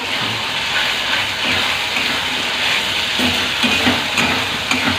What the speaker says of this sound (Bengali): এবার এই মশলাগুলো একটু মিশিয়ে নেবো